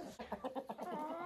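Silkie rooster crossed with Marans giving a quick series of clucking calls in a henhouse, about six short rhythmic notes rising into a longer drawn call, close and fairly quiet with no talk.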